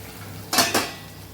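A lid goes onto a pot of ridge gourd and potato curry, two quick close metallic clanks in a row against faint kitchen background.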